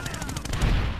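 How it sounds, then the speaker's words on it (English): Rapid gunfire in the video game Medal of Honor, a dense burst of repeated shots with heavy low rumble growing louder toward the end, filling the whole second. "I will shoot away your cover."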